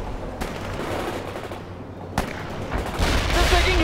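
Gunfire and explosions in a modern-warfare video game battle, dense rumbling fire with a couple of sharp cracks, loud and continuous throughout.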